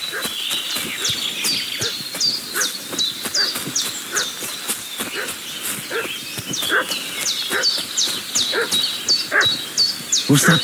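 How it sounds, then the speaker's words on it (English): A dog barks repeatedly in the medieval village world of Kingdom Come: Deliverance II, sharp rhythmic yaps at moderate distance with birdsong chirping throughout. "What's that dog making such a fuss about?"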